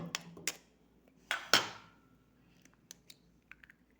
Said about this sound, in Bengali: ব্যাটারটা বানানোর জন্য প্রথমে আমি একটা ডিম ফাটিয়ে দিচ্ছি